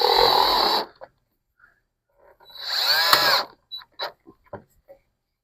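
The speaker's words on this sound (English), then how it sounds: "I'm going to put a couple small screws in here just to hold it in place" A power drill drives small screws into a Yardistry gazebo gutter in two whirring bursts, the second rising in pitch as the screw tightens, followed by a string of short clicks and handling taps.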